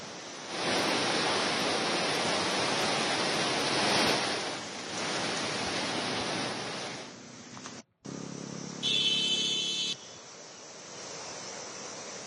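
The flooded Beas river in Mandi, Himachal Pradesh, rushes in a dense, steady roar of water at moderate distance. It thins and breaks off partway through, and a brief, buzzy, tonal sound follows near the end.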